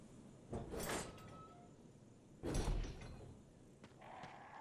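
Two short mechanical door openings in the Resident Evil 1 Remake video game, each a brief, fairly loud burst of creaking and rattling about two seconds apart, with quiet ambience between them.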